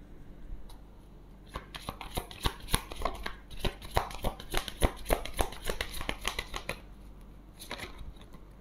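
Tarot cards shuffled by hand for a nine-card spread, a run of crisp, close riffling snaps and flutters that builds in the middle and then eases off. No one speaks.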